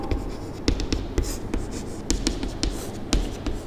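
A pen scratches briskly on paper while a matrix is written out, with quick strokes and sharp taps close up, no talking.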